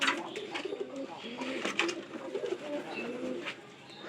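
Pigeons kept indoors coo in low, repeated rolling calls close by, with faint background rustle and no clear talk over them.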